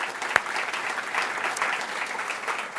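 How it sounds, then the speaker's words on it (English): Crowd applause for the judges at a CEO of the Year awards event, a steady, moderately loud round of clapping across the whole stretch, with one sharp clap standing out early. "Let's give a big round of applause for all the judges"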